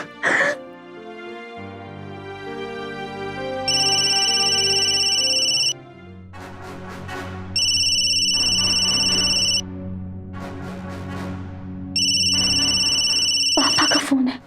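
A phone rings in repeated loud electronic bursts, three long tonal rings separated by gaps, over a sustained dramatic music bed with a brief sting at the start and end.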